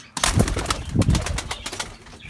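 Close, soft sounds of white double-crested pigeon chicks with fluttering and rustling, a few low cooing murmurs among brief wing flaps.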